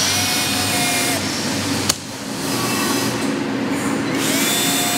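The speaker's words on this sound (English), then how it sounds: "I'm just gonna take a little hand drill, cordless drill with a deburr tool here," A cordless hand drill fitted with a deburring tool whirs steadily at close range as it deburrs a hole in a machined ram rod retaining block, with a brief click and a short dip in the tone midway.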